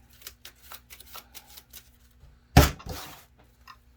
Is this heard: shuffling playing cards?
yes